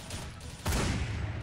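Gunfire from a gun in the Truy Kích video game, a burst of rapid shots that starts abruptly partway through and continues at close range.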